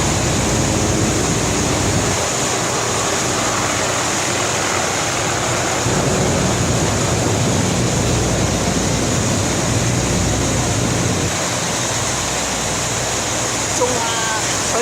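Niagara Falls thunders in a steady, dense roar of crashing water that fills the whole scene, loud and unbroken throughout with no clear speech.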